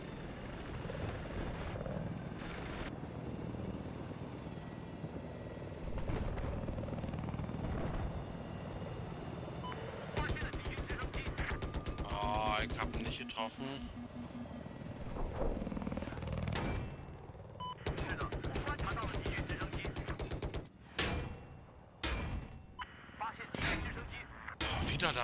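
A helicopter's steady rotor drone runs through a Battlefield match on the Siege of Shanghai map, overlaid by bursts of rapid gunfire and heavy booming shots, loud and close, with people talking at times.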